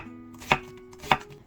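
Vegetables for kimchi jeyuk bokkeum are sliced on a cutting board with a knife, two separate crisp chops about half a second apart, near and clear over a quiet background.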